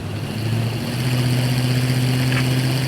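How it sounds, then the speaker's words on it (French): A tank engine in an armored battle video game runs at a steady idle, a low droning hum with a faint rattle of tracks over stones, continuous and fairly close. "C'est notre moteur qui fait ce bruit là."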